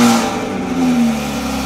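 A BMW M340i engine fires up and revs, a loud, steady mid-pitched drone close by, holding for a moment before easing slightly.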